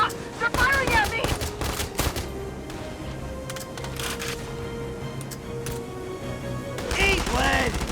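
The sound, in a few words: gunfire in video game Valkyria Chronicles 4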